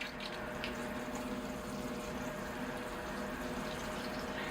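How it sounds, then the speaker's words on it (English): Water poured over a potted cork bark oak bonsai in a greenhouse, a soft continuous splashing and trickling stream, fairly quiet and steady. "here I go with the water"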